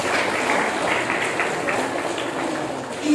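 Applause from a school audience at an anti-drug orientation session in East Jakarta, a steady wash of clapping lasting about three seconds at moderate level with no voices over it.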